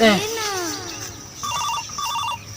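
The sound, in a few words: phone ringing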